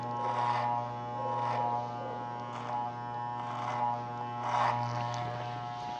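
An electric hair clipper buzzes steadily while finishing a men's social haircut, its motor hum swelling and easing in repeated passes as the comb-guided blade works the hair ends, close and fairly quiet.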